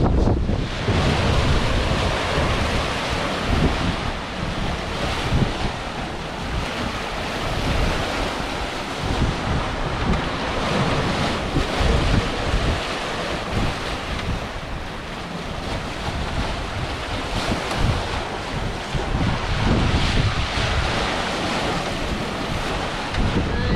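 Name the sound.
water rushing along sailboat hulls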